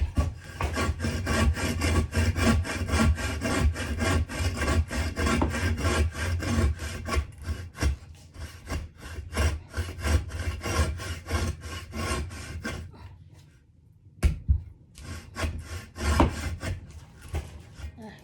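Hand saw cutting firewood logs indoors on a freezing winter day in England, steady rhythmic rasping strokes filling most of the stretch, close and loud, pausing briefly near the end before a few more strokes.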